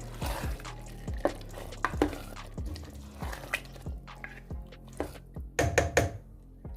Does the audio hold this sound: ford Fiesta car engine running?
no